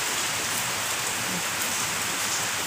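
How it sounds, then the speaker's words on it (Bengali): A heavy downpour pours steadily outside a home, a dense, continuous hiss of rain with no voices over it. "এখন এবার জোর দমে শুরু হয়েছে বৃষ্টি"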